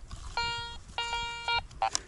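Metal detector beeping while sweeping for a coin outdoors at a farmstead: three sustained electronic tones, the middle one longest, then a short warbling blip, loud and close with faint background noise.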